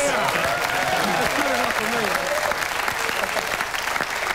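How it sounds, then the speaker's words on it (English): Steady applause from a crowd at a Newcastle Knights rugby league event, dense clapping that fills the whole stretch with some voices mixed in. "That's a round of applause."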